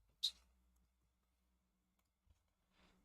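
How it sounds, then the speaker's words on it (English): Computer notification clicks: a sharp click near the start, a soft tick around two seconds and a faint rustle at the end, all quiet against near silence. "think you can hear all the notifications."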